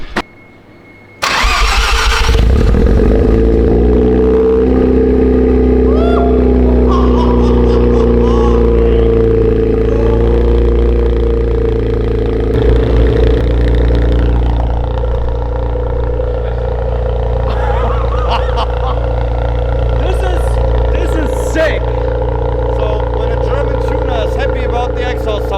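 A Mazda RX-7 FD3S rotary with a Fujitsubo exhaust cranks and fires after a brief quiet moment, then settles into a loud, steady, burbling idle close by for the rest of the clip, with people talking over it.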